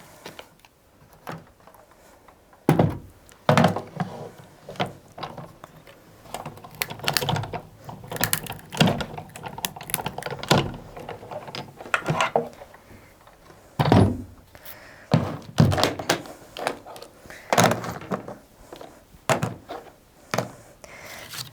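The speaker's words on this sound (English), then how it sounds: "we're going to roll that through our Big Shot machine and get those all cut out" A Big Shot die-cutting machine rolling papers through, heard as a run of close, uneven knocks, clicks and rubbing thuds from the crank and rollers, with brief pauses between bursts.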